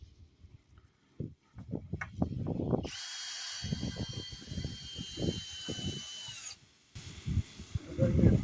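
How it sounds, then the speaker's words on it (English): A power drill whirs steadily for several seconds, driving into wood, between bursts of nearby talk, stopping abruptly before speech resumes. "Go ahead and drill that in there, Fred."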